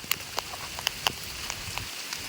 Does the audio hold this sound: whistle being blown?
no